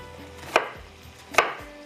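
Two sharp, evenly spaced knife chops on a cutting board as chillies and onions are cut, close and clear against a quiet kitchen background.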